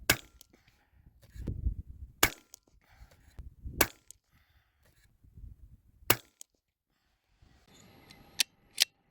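A .22LR rifle fires a five-round group at a plinking target, with sharp, short cracks spaced a second or two apart, and quiet rustling and handling sounds between shots.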